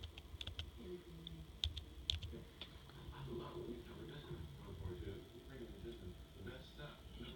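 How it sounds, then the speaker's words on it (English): Typing regedit on a computer keyboard, a few quick faint key clicks at the start and a couple more soon after, mostly buried under a person talking. "Type regedit and you click on enter to start the register editor"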